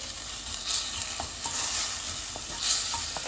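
A spoon stirs dried red chillies through spinach bhaji in a sizzling pan, scraping and clinking softly over a constant frying hiss, close and with no talking.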